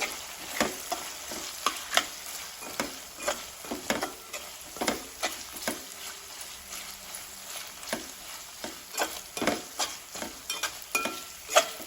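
Ginger garlic paste sizzles in a pan for mutton fry while a spoon stirs it in quick repeated scrapes and taps over a constant frying hiss, close up, with no talking.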